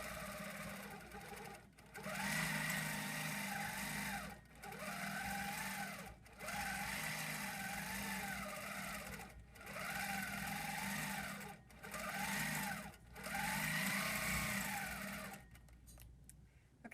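Longarm quilting machine stitching a pantograph edge-to-edge design, a steady high whirring hum running in long passes broken by brief pauses every couple of seconds, close and fairly loud, with no talking.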